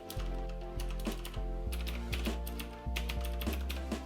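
Rapid, steady clicking of keys being typed on a Genesis Thor 380 keyboard, close and clear with no talk over it.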